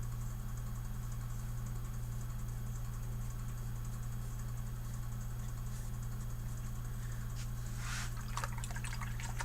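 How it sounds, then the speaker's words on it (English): Water flicked around an art studio while painting makes a few faint, quick spatters near the end, set against a steady low hum in an otherwise quiet room. "I just can't get away from flicking water all over the studio right now."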